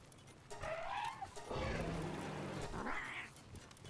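A winged cat creature in the video game Palworld gives several meowing cries with rising and falling pitch, close and fairly loud, with no talk over them.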